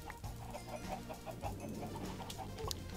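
Chickens cluck repeatedly in the block-building game Minecraft, a steady stream of overlapping in-game hen calls at moderate level with no talk.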